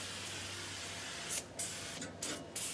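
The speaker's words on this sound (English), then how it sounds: "Just going to spray everything that's in here." An aerosol coating is sprayed inside a snowblower housing so snow won't stick, heard as a steady close hiss followed by several short bursts in a quiet room.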